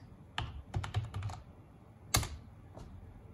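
Keystrokes clatter on a computer keyboard in short, uneven bursts, a quick cluster of taps followed by a sharper press and one last isolated key, close and fairly quiet with no talking.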